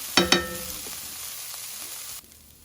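Leftover brisket hash of potatoes and onions frying in a pan, a couple of sharp clatters at the start, then a steady soft sizzle that cuts off near the end.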